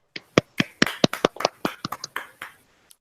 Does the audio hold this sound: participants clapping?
yes